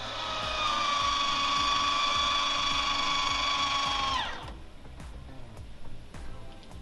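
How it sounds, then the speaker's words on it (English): An electric MaxxAir roof fan in a Ford Transit van whirs with a steady mechanical tone for about four seconds, then shuts off and spins down, leaving quiet room noise. "For circulation of air, we have a max air fan that we love."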